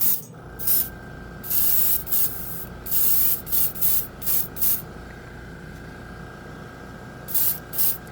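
Thinned ATOM acrylic paint spraying from an airbrush in short repeated hissing bursts, a dozen or so close pulses separated by brief pauses, over a steady low hum of a compressor.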